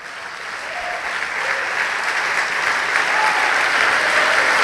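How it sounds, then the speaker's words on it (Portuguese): Church congregation applauding Jesus, a broad, even roar of clapping that swells slightly and stays loud and continuous throughout. "Vamos aplaudir o Senhor Jesus"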